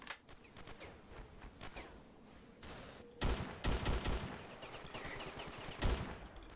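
Gunfire in the video game Ravenfield, including machine gun bursts, with scattered shots early and louder rapid bursts around the middle and near the end, fairly close and sharp.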